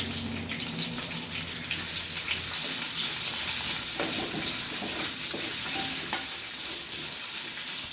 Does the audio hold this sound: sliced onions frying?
yes